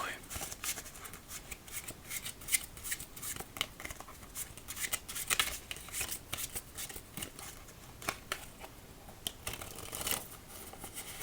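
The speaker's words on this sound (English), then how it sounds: "Can just get straight into shuffling even if the cards aren't settled." A deck of playing cards is shuffled close up, a run of crisp riffling and flicking bursts with short pauses between them, recorded intimately in a quiet room.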